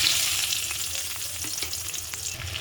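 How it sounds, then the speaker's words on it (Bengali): Paneer fries in hot oil in a pan, giving a steady close crackling sizzle with small pops and light stirring scrapes throughout, with no voices. "প্রথমে পনিরগুলো আমি ভেজে নিচ্ছি।"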